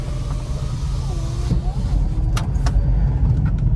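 A car, apparently a Hyundai, Mahindra, Tata or MG, idles and creeps forward after reversing, with a continuous low engine drone close by and a few brief clicks.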